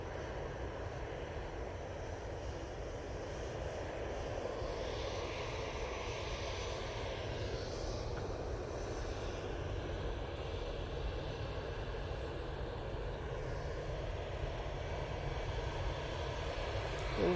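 easyJet Airbus A320 at Manchester Airport heading off to Alicante, a steady, moderately loud jet engine rumble with a faint whine, gently rising and falling as it moves, alone without talk.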